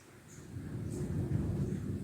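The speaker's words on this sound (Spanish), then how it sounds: "está por llover, hay truenos" Thunder before rain: a low, muffled rumble swelling up and rolling on for a couple of seconds, soft and distant, with nothing else over it.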